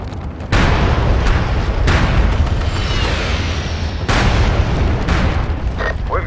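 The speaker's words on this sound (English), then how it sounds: "Enemy mortar is back online." Enemy mortar rounds and explosions in the war game M.A.G. land as four heavy booms with sharp onsets, spread over a constant loud rumble of battlefield noise.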